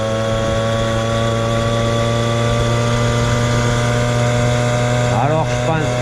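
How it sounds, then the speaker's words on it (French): Moped engine, an AV7 72cc restomod, held at full throttle, a loud sustained high-revving buzz with steady tone and a brief dip near the end. "je vais mettre gaz en grand"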